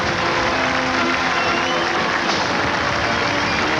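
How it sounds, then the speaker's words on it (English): Overflow crowd at Bill Clinton's 1993 presidential inauguration in Washington breaking into sustained applause, a dense, loud, steady wash of clapping from a large outdoor crowd with no pauses. "The crowd has broken into spontaneous applause, part of that overflow crowd that we can see from our vantage point here"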